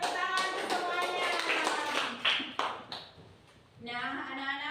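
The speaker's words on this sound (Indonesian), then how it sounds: "tepuk tangan untuk semuanya" Children in a classroom clap in a steady rhythmic pattern of sharp slaps alongside chanting voices; the clapping fades after about three seconds and talk continues.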